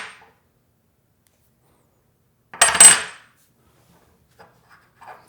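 Two bullion coins, a 1 oz gold Maple Leaf and a silver coin, dropped onto a hard surface give one bright metallic clatter and ring, near and fairly loud, with a few faint small ticks afterward and no talk.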